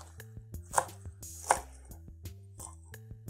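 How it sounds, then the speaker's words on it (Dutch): Knife roughly chopping celery into pieces on a board, a handful of soft, uneven taps with two sharper cuts, close and fairly quiet. "De selderij. Deze hoeven we alleen grof in stukken te snijden."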